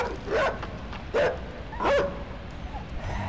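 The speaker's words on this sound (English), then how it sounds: "I'm safe from the dog." A dog barks three times in the side-scrolling game Inside, each bark a short sharp burst at a steady interval over quiet forest ambience.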